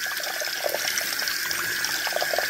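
Warm water runs steadily from a kitchen tap into a sink while meat is rinsed under it, a constant close splashing flow with no talking.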